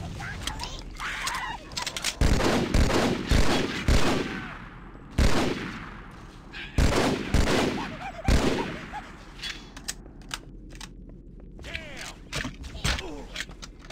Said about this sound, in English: it's just as strong as your regular grenade, but it blows up on impact